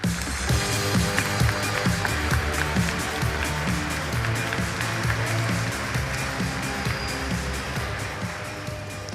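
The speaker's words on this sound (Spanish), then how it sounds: "Con un gran aplauso invitamos a los estudiantes al escenario." Big audience at a youth congress event applauding as students are welcomed onto a stage, a dense, steady roar of clapping that stays loud and continuous throughout.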